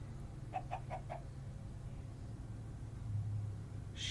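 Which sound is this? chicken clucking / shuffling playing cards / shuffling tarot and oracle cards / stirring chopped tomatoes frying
chicken clucking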